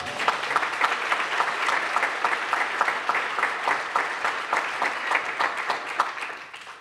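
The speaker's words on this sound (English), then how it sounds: "can we just give a round of applause to Matt one more time, please?" Steady applause from a crowd at an awards banquet, dense clapping that holds at an even level for several seconds before tapering slightly at the end.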